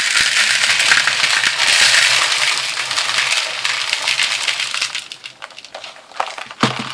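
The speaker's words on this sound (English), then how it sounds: "I'm just going to dump it right on top of this" Small white stones poured out onto a Dollar Tree fairy garden, a loud, close, continuous clattering and crunching that thins out into scattered clinks near the end.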